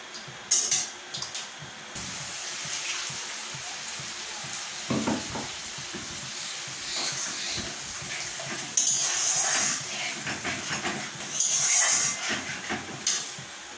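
Ground spice paste for shahi paneer masala lands in hot oil in a wok, producing a moderate hissing sizzle that flares up in bursts, with occasional clatters against a quieter steady background.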